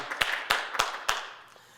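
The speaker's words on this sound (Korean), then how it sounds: "우리 하나님께 영광의 박수 올리겠습니다" A worship service congregation claps in praise of God, giving four sharp, spaced claps that sound close and fairly loud, then fade out.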